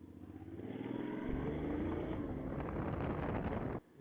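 A 2021 Honda X-ADV motorcycle riding on a road, its engine droning steadily with rushing wind noise over the microphone, close and loud throughout before an abrupt drop near the end.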